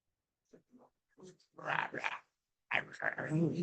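A voice imitating frogs croaking, giving short, throaty croaks in uneven bursts that grow louder, close and alone with no other sound.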